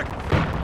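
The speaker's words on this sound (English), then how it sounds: "Tossing frag!" A frag grenade explodes in Call of Duty Modern Warfare as a single sudden, close boom partway through a brief moment of battle noise.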